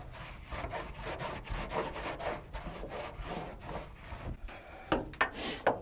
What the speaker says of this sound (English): Put some acetone on here and rub some JB Weld on there.